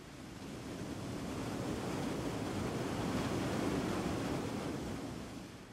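Colorado River rapids in Cataract Canyon: a continuous broad rushing roar of whitewater swelling in and out, steady and full throughout with no voices.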